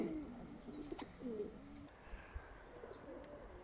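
Three male pigeons kept under netting coo in soft, low, rolling phrases, with a few light chirps and rustles close by in a quiet setting.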